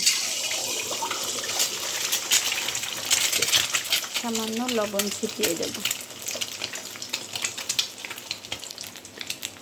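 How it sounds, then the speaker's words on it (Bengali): An egg sizzles as it fries in hot oil in a wok, a steady crackling hiss throughout, with a brief clink in the middle and someone talking over it. "তো এবার আমার ভেঙে রাখা ডিমটা ছেড়ে দেব।"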